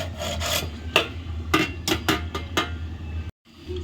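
A lid placed over a cooking pot on a gas stove: a series of sharp metallic clinks and scrapes, then a short hush before the low burner hum returns.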